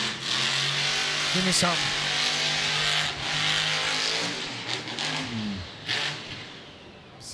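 Monster truck engine revving hard during a freestyle run at the 2022 World Finals XXI in Orlando's Camping World Stadium, a loud, sustained roar with rising and falling throttle bursts, under an announcer talking.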